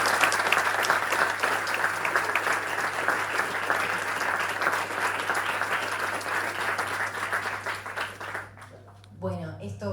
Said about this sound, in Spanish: Gustavo Tareto, un fuerte aplauso.